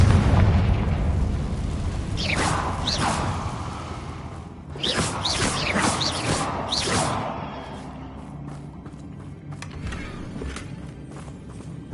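Confringo blasting spell in a Harry Potter wizard video game: several booming explosive bursts around the middle, with crackling debris and footsteps, then a quieter tail.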